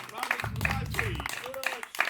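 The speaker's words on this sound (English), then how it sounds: "one more round of applause for yourself" Team applause at a real estate company's annual meet in Goa, a short burst of clapping heard under a voice talking.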